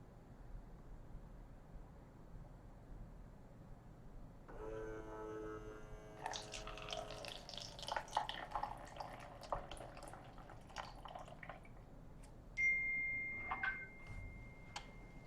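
A voice-activated Zipmunk cocktail dispenser pours vodka, with faint liquid trickling and dripping rising out of a quiet hiss, followed by a thin tonal beep near the end.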